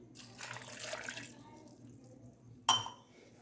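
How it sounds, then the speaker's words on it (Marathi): Water pours for about a second into a mixer jar, then quiet follows and a single sharp clink rings out near the end. "वाटताना आपण याच्यामध्ये टाकून घेऊ एक ग्लास पाणी"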